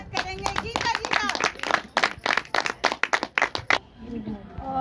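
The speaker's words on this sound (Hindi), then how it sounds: "हम सभी उनके जोरदार तालियों से स्वागत करेंगे" A short burst of sharp hand clapping from a small group at a business meeting, brisk and uneven, fading out after a few seconds.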